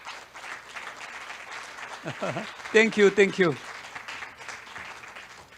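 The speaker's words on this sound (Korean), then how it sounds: "큰 박수 부탁드리겠습니다" Audience applause at an artificial intelligence forum's founding seminar, a steady patter of clapping in a hall while a voice briefly speaks over it.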